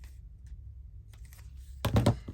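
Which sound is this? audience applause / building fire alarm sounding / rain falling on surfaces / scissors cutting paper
scissors cutting paper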